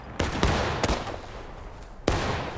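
Muskets firing in the Civil War shooter game War of Rights: several sharp, loud cracks, two close together near the start, another shortly after, and a final shot after a pause, each trailing into a rumbling echo.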